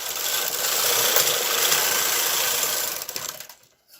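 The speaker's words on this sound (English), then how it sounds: "We're changing no other settings on the knitting machine. We're going to knit across one time." A knitting machine carriage is pushed once across a single row, giving a continuous raspy, whirring slide that runs loud and close for about three seconds, then tapers off into quiet.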